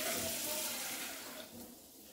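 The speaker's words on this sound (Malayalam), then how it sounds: "കുറച്ച് വെള്ളം എടുത്തോണ്ടിരാമേ." A kitchen tap runs water for a couple of seconds, a steady close hiss that eases slightly toward the end, with no one speaking.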